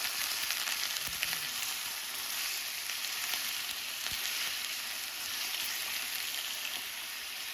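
Pork ribs frying in hot caramel for Vietnamese caramel ribs, a dense steady sizzle with a few faint stirring knocks, close and continuous with no talking.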